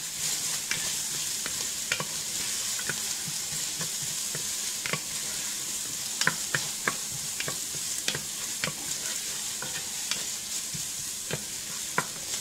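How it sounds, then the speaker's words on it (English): A teaspoon of garlic fries in a pan set for Southern fried cabbage, giving a steady close sizzle with repeated sharp clicks and scrapes of stirring throughout. "Now I'm going to put in a teaspoon of garlic. And just let that go for maybe just a minute or so."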